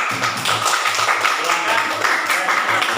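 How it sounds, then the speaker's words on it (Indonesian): Schoolchildren in a classroom clap for group 1 before its presentation, a lively, fairly close clapping with some rhythmic taps mixed in and voices under it. "Ayo kita tepuk tangan untuk kelompok 1."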